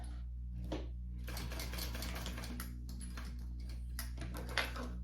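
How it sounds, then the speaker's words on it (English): A sewing machine stitches handbag strap connectors in short quick runs of rapid ticking over a steady low motor hum, fairly quiet and without talk. "we're gonna sew that"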